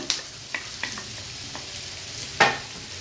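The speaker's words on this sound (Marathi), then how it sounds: "कांदा तेलावर छान परतून घेते" Finely chopped medium onion sautéing in hot oil, a soft steady sizzle with a few light stirring scrapes and one louder clank near the end, quiet and close, no voices.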